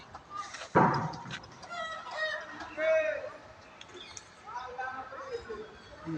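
Chickens make a few short, mid-distance clucks and calls beside a rooftop chicken and pigeon coop, mixed with a sudden knock near the start and a person talking.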